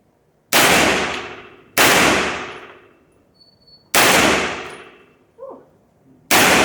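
Handgun shots at an indoor shooting range, four sharp loud cracks spaced irregularly, each with a long ringing decay, a brief faint voice between them.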